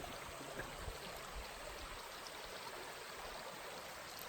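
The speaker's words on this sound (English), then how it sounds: "check out beautiful Raven Creek." A steady rush of flowing water from Raven Creek on Arkansas's Eagle Rock Loop, soft and continuous, with no voices.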